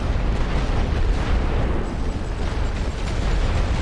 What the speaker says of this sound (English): And then do another rolling barrage here.